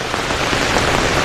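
Rain pouring down at Mont Saint-Michel, a dense, steady hiss of drops hitting surfaces nearby, even and unbroken through the short stretch.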